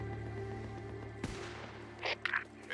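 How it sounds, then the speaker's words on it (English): A single sharp gunshot cracks out in the Days Gone video game, a loud broadband burst over a steady low hum, followed a moment later by a few brief higher-pitched noises. "Gunshots."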